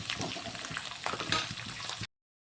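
Roasted gram frying in a pan for spicy poha chivda gives a steady, close crackling sizzle with small scattered pops. It lasts about two seconds and then cuts off abruptly. No one speaks.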